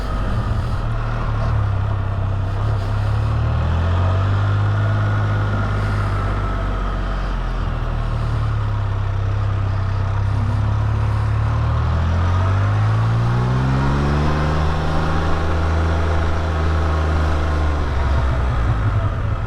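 A loud, steady engine drone from a VCM F3-T, with whining mechanical tones from gears driving pumps that rise and fall in pitch over the rumble.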